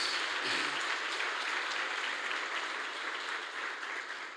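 Church congregation applauding loudly, a dense continuous roar of clapping filling the room, steady from start to finish with no clear talk over it.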